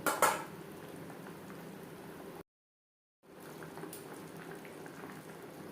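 Shing fish simmering in a thin gravy with potato and green banana, giving a steady soft bubbling hiss with a brief clatter at the start and a short gap of silence midway.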